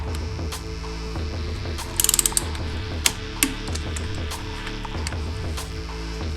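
Bolts on a BMW R1100RT motorcycle being torqued to 40 newton-meters, heard as close ratcheting clicks, including a quick burst of several clicks and a few single sharp ticks, over a steady low mechanical hum.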